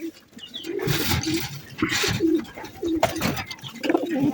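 Arabian koka pigeons coo repeatedly nearby in low, throaty calls, overlapping with fluttering wings and light rustling.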